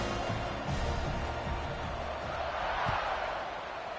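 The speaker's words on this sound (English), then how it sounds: "this crowd is buzzing after that last score" A football stadium crowd after a score makes a continuous low, distant murmur and roar, with a few faint thuds under it.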